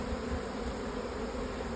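Honey bees buzzing around hive supers, a dense, steady swarm hum, close and continuous, with no voices.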